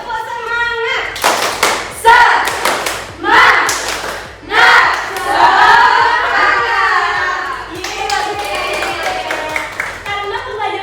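Children in a classroom do a rhythmic spirit clap, bursts of patterned clapping and thumping alongside an adult voice and children chanting, moderately loud and near.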